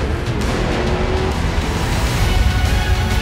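An old camper van grinding along a rough off-road track in Georgia, a loud, continuous engine drone with rattling and bumping noise throughout, no voices.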